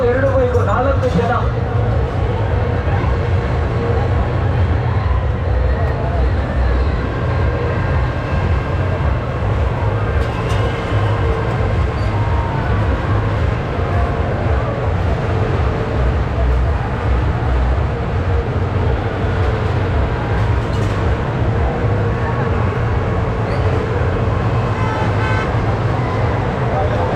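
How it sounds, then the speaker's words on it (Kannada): Two cars and two motorbikes circle inside an exhibition display at the Dharmasthala Laksha Deepotsava 2022 fair, a continuous loud, rumbling engine roar with people talking over it throughout. "ಸೌಂಡ್ ನೋಡಿ, ಗಾಡಿ ಸೌಂಡು."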